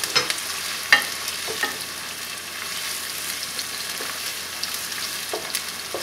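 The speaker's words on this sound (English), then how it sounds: "Into that, I'm going to add the onion, and stir it all up." Chopped onion dropped into about half a cup of hot oil in a pot for corned beef stew, crackling with a steady sizzle under a few sharp spoon scrapes and knocks while it's stirred, no talking.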